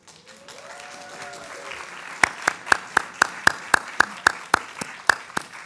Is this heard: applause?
yes